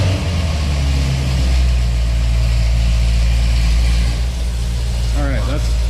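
A C6 Grand Sport Corvette with Speed Engineering 2-inch longtube headers idles with its exhaust closed, a loud steady low rumble running throughout; a voice briefly sounds near the end.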